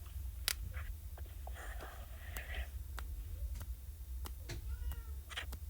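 A pet cat lets out several short, soft meows close by, spread over a few seconds against a steady low background hum.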